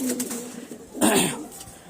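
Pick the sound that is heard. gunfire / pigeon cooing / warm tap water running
pigeon cooing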